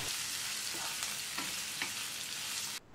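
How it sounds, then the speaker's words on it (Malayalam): Onions sauté in hot oil for a cauliflower curry with a loud, constant close-up sizzle, broken by a few soft scrapes from stirring. "സവാള എണ്ണയിലിട്ട് നല്ലതുപോലെ വഴറ്റിയെടുക്കണം."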